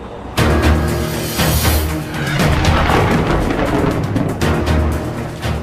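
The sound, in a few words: thunderstorm sound effect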